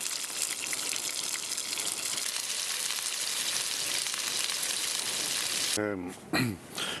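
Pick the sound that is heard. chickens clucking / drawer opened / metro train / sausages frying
sausages frying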